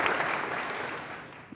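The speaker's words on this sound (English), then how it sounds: "Give her another round of applause." Audience applause fills a scholarship banquet hall, a dense steady wash of clapping from a crowd that holds level and then thins slightly toward the end.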